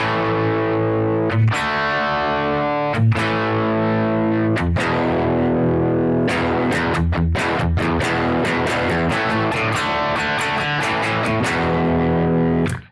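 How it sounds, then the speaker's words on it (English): Heavily distorted electric guitar chugs through loud rock power chords, with a few sharp breaks between chords before a denser rhythmic run. "let's have a demonstration of those with my electric guitar."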